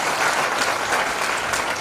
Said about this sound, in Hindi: पुरोहित के आने पर स्वागत किया जाता है तो हम ताली बजाकर ही स्वागत करते हैं।